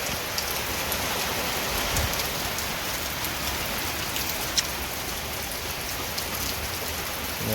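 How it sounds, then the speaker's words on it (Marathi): Heavy monsoon rain pours steadily in rural Konkan, a dense, even hiss of drops drumming on surfaces close by that never lets up, with no voices over it. "पाऊस बघा जोरदार आहे."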